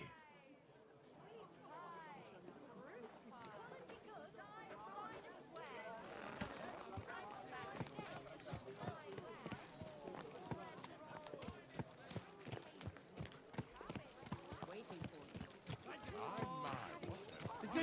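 Rapid hoof clip-clops of a horse in the video game Kingdom Come: Deliverance II patter steadily throughout, dense and busy, with background music or chatter layered underneath.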